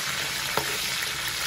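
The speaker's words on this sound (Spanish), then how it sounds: "la manteca, pues brinca cuando se está friendo" Lard and onion frying in a cooking pot give off a steady, close sizzle with a single sharp pop partway through.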